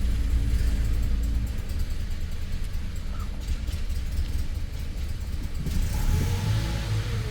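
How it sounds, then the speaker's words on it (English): A 2011 Toyota Tacoma 2.7L four-cylinder engine idles after fresh injector replacement, giving a steady low rumble up close that holds for several seconds, with a slight rise in tone near the end. "the car might just idle a little funny for the time being"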